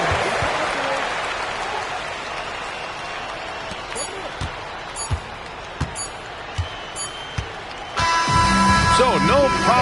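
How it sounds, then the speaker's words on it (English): Arena crowd in the NBA 2K25 basketball video game keeps up a steady roar with scattered claps and sneaker squeaks, then swells louder near the end as game music kicks in. "the crowd loving every second of it"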